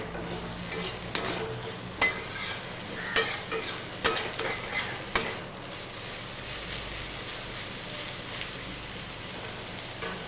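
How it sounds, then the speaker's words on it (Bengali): Bottle gourd peels frying in a pan while sugar is stirred through them, a steady soft sizzle with several sharper spoon scrapes early on, then calmer frying alone. "চিনিটা এর সাথে মিশিয়ে নিয়ে"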